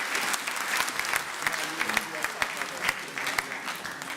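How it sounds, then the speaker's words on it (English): A seated audience at a provincial State of the Province address in the Eastern Cape claps for the Premier, a steady wash of applause with a voice talking over it. "You can give another round of applause to the Honorable Premier."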